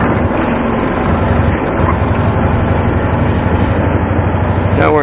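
A Cushman scooter engine runs steadily in third gear, a close, loud, even drone with rapid low pulsing and some wind rush, continuous for a few seconds with a brief rising squeal near the end.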